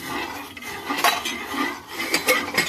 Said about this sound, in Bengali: আমি কিছু চামচ দিয়ে নেড়ে দিচ্ছি